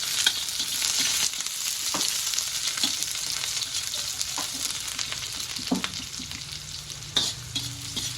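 Onions and meat frying in a pan on a gas stove for miki noodles, a constant crackling sizzle broken by repeated clattering stirs and scrapes of a utensil against the pan.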